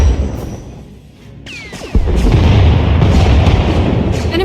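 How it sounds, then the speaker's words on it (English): An enemy Thranta-class warship fires turbo lasers and missiles in Star Wars The Old Republic: a descending laser zap, then a heavy boom that opens into a loud, sustained rumble of space-battle fire. "Enemy is firing. Turbo lasers, missiles, and what looks like transport pods."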